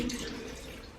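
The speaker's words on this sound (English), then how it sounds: "So I'm gonna wash my face now." Tap water runs steadily into a bathroom sink during face washing, a soft continuous splash with faint dripping, fairly quiet and alone.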